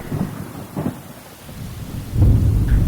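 Heavy rain hisses down at a closed railway level crossing alongside deep rumbles of thunder, the downpour swelling louder toward the end.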